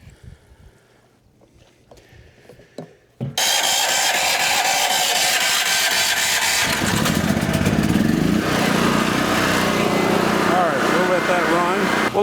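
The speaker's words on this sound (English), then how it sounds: "Well, the generator's been running for about half an hour." Portable generator running on non-ethanol gas kicks in abruptly after a few quiet seconds, then holds a loud, steady, buzzing engine drone close by.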